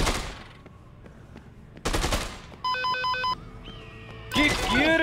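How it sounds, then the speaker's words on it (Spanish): Gunfire in bursts in the video game Dead Rising 2 amid electronic game tones, with a loud rapid volley near the start and another at the end. "me están agarrando balazos"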